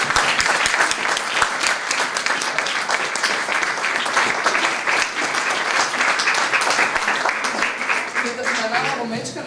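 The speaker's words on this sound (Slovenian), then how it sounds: "Zdaj pa še en mečken večji aplavz za najljubšega mojega fotografa na svetu, Luko Rudmana." Audience applause for a photographer at a talk, dense sustained clapping from a crowd that stays loud for most of the stretch, with a voice starting to talk as it tapers at the end.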